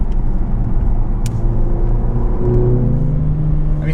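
Exhaust note of a 2018 Mercedes-AMG CLA45 on a race track, a steady close engine drone with rising pitch under acceleration and no talk over it.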